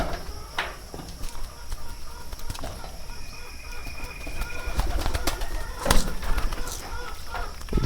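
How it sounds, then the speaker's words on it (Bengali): Pigeons coo and flutter nearby, with soft clucking calls and occasional wing flaps over a steady outdoor background. "দেখেন এই কবুতরটা খাবারের জন্য"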